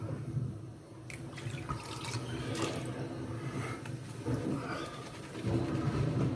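Tap water runs steadily onto a shaving brush at a sink before lathering for a straight razor shave, a moderate continuous splashing and trickling with no talking.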